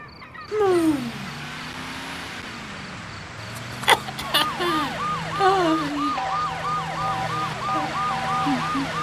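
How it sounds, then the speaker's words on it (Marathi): A police siren wails and whoops over road traffic, a rising and falling electronic tone that shifts into fast repeating yelps, close and loud, with a brief clatter midway. "पोलिसांचं सायरन"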